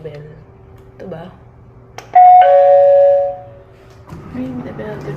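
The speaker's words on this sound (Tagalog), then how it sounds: "Ring the bell to check in." Service bell at a hostel check-in desk in Taiwan, struck once for a bright ding that rings on and fades, close and loud, with quiet talk before and after.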